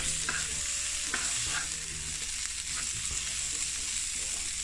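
Food frying in a pan on a stove set to medium heat, a steady close hiss and sizzle with a few soft scraping stirs, no voices.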